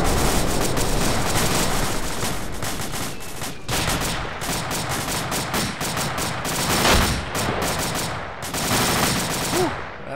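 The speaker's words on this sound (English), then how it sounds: "LMG's firing at it, bro." Sustained light machine gun fire in the video game Arma 2 rattles on for about ten seconds with only brief gaps. The bursts are dense, loud and continuous, and no voices are heard over them.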